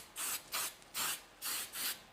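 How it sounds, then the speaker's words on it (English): Five short hissing bursts of protective spray onto isomalt sugar work, evenly spaced, close and moderately loud, with brief quiet gaps between them. "Let's give a bit of spray here."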